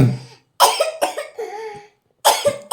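A person coughs several times in short separate bursts at night, loud and close, with brief silences between them and no talk over it.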